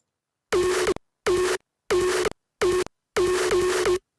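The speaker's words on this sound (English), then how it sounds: "This is a 3x oscillator that is going through the snare processing." A synthesized bass snare for a hardcore drum arrangement, built from a 3x oscillator sine wave run through snare processing, fires five short, punchy tonal hits in an uneven rhythm, clean and isolated with silence between them.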